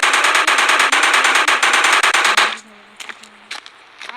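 A gun fired by pressing a button in a video game lets out a loud, rapid automatic burst of shots for over two seconds. A few scattered quieter clicks and thuds follow.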